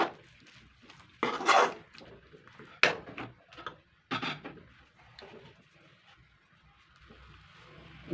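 Spatula stirring chicken roast masala in a pan, giving several scraping and clinking strokes at close range with pauses between, moderately loud against a quiet kitchen.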